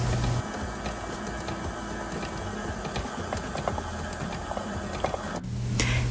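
A stand mixer with a paddle whirs and rattles steadily as it beats cheesecake batter after heavy whipping cream is added, close and mechanical, then cuts off near the end.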